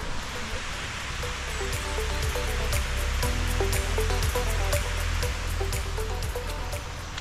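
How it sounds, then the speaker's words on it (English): Small waterfall feeding a stream in Hall Wood, a woodland near Rivington Pike, rushes in a steady broadband wash with faint trickles and drips, close and continuous throughout with no voices. "Already there's a nice little waterfall."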